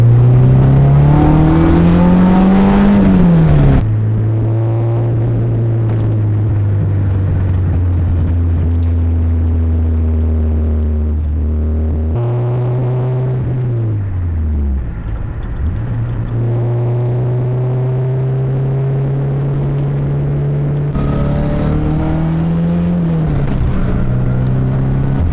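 A car on a test drive roars close and loud, its engine pitch climbing through each gear and dropping at the shifts, then cruising in a sustained drone before revving up again.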